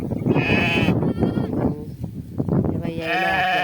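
Several sheep bleat loudly nearby, a quavering call at the start and another at the end, with shuffling and brief low voices between.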